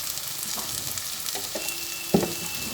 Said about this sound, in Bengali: চিনি দেওয়ার পরে আবার একটু নাড়াচাড়া করে নিচ্ছি